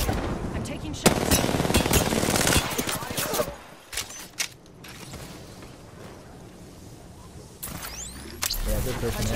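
Bursts of rapid automatic gunfire and single shots crackle loud and close in an Apex Legends battle on World's Edge, easing into a quieter stretch before the shooting picks up again.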